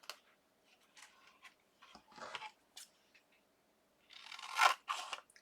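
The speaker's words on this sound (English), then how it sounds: "This needs to be cut out of silver and white. Okay. Yep. So I'm going to cut another piece of this." Scissors snip through a piece of silver and white paper for a die-cut craft, giving a few quiet, separate cuts and rustles with pauses between them.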